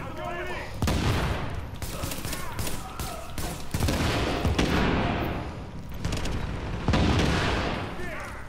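Repeated bursts of explosive-round gunfire in Tom Clancy's The Division, loud heavy blasts coming in several clusters with booming low end, a voice talking faintly in between.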